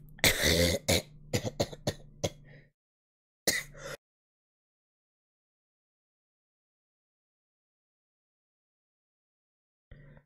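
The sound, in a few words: coughing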